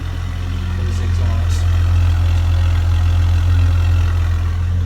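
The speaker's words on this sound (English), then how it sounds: "It does sound a little bit more stable when it's idling." A 1998 Jeep Grand Cherokee 4.0 engine idles steadily with a low, even rumble that holds constant throughout, no revving.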